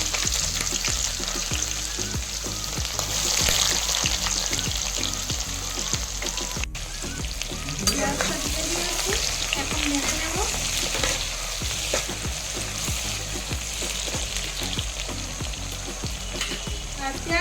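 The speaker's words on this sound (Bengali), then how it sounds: "তেলটা গরম হয়ে গেছে এখন দিয়ে দেব পেঁয়াজ" Onions hitting hot oil in a wok, a loud continuous crackling sizzle throughout, with stirring scrapes and a brief rustle midway as the frying settles into a steady hiss.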